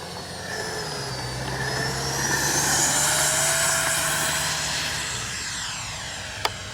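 A Freewing F-35 70mm electric ducted-fan RC jet makes a rising, whining pass: a whoosh swells to a peak mid-way, then fades with a Doppler drop, followed by a sharp click near the end.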